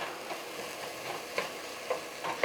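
Chicken Alfredo ingredients sizzle and crackle steadily in a frying pan as they cook down on the stove, a soft continuous hiss with a few brighter pops.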